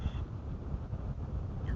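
Strong gusting wind buffets the microphone on an open disc golf course during a tournament, a steady low roaring rumble that continues unbroken and fairly loud, with no talk.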